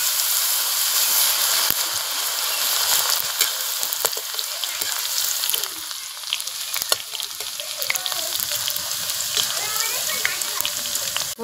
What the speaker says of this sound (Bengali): এবার আমি আলুগুলো অল্প অল্প করে দিয়ে ভেজে নিচ্ছি।